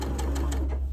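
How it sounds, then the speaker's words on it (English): A sewing machine stitches a quarter-inch seam joining quilt pieces for a Christmas quilt, running in a fast, steady mechanical rhythm close by with no voices. "So I'll take it to the sewing machine and I'll stitch a 1/4 inch"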